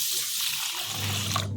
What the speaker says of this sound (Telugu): 2 సార్లు వాటర్ పోసి మంచిగా కడిగి